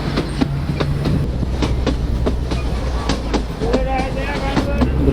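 A narrow gauge heritage train on the Bilimora–Waghai line runs close by with a rhythmic clickety-clack of wheels over rail joints, a steady rumble underneath, and a voice speaking briefly.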